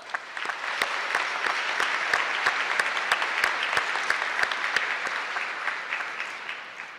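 Audience applause at a university commencement ceremony, a sustained wash of many hands clapping at moderate distance, with scattered sharper claps standing out and steady intensity throughout.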